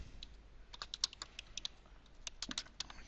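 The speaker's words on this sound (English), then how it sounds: "If you want to write something, simple, as you know it out of other applications, go in and type something." Rapid keystrokes on a computer keyboard, tapped in uneven bursts while someone writes a message in a CRM application, close and fairly quiet with no talking.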